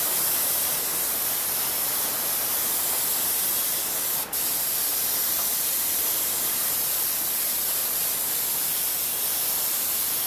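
An airbrush sprays paint in a steady, even hiss that runs unbroken throughout, close and constant, with only a momentary dip partway through and no talking.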